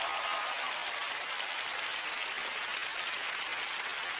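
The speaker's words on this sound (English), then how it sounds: "A warm round of applause will follow you up here." Studio audience at a magic show applauds as volunteers come on stage, a dense, even wash of clapping that continues steadily throughout.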